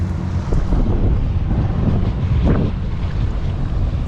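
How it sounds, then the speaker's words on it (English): Strong wind buffets the microphone aboard a sailboat moving at about 4.5 knots off Mount Desert Island, Maine, in October, a loud continuous roar with faint water wash underneath and no talking. "Wind is a little stronger than forecast."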